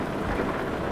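A brief wash of steady rain noise in American Truck Simulator, dense and hissing, with a low rumble underneath and no voices.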